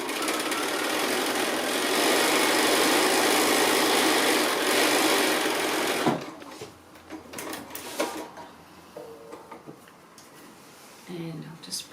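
A sewing machine stitches quilt squares with straight edges and sashing, running as a steady loud drone for about six seconds, then stopping, followed by softer handling noises and brief talk.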